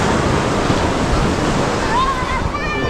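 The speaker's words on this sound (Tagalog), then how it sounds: "so na laki ng alon dito," Large ocean waves crash and roar continuously at the shore at a river mouth, loud and close, with wind buffeting the microphone and faint voices underneath.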